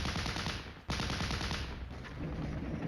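Dense, continuous gunfire in the war game Flashpoint Campaigns: Red Storm, Soviet campaign, a loud, rapid volley with a brief dip just before one second, then constant firing again.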